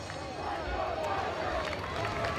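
A crowd at a high school football playoff semi-final roars steadily, a broad sustained wash of cheering and voices from the stands with no quiet gaps, heard at a distance.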